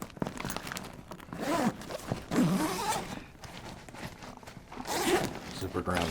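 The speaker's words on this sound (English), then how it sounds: "Where are my zippers? There they are." A zipper on an HK Army Rock N' Roller paintball gear bag is pulled open in several long rasping runs, close and fairly loud. A voice talks over some of the pulls.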